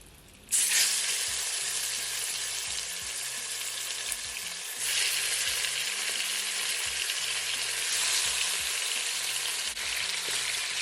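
Oxtail dropped into a hot pot bursts into loud, steady sizzling that swells partway through and keeps frying continuously, with faint low clatter underneath.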